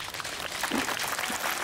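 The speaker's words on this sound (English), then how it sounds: "But never mind, clap for Lord Mahavira." Brief, fairly faint audience applause, a dense wash of clapping that lasts under two seconds.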